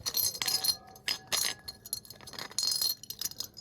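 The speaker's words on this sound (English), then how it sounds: "this was our original Glass Bowl sample" A glass bowl struck repeatedly, bright ringing clinks with short resonant tones, several taps in an irregular rhythm, close and clear with no talking.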